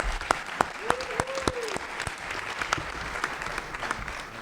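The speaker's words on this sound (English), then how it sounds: "Give them a round of applause." Audience applause for a panel closing a session at the Affiliate Summit East 2011 conference, scattered sharp claps over a moderate crowd wash, with a brief tonal sweep partway through.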